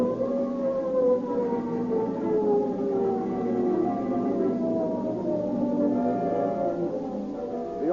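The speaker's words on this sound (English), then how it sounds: "The ominous wail of the San Quentin siren is the call to arms" San Quentin prison siren wailing in a radio drama, a loud, continuous, slowly falling mournful tone that fills the scene alone.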